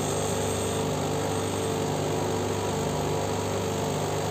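Stone-working grinding machine shaping a labradorite cabochon for earrings, a steady, loud motor whine and abrasive hum running unbroken throughout with no talk.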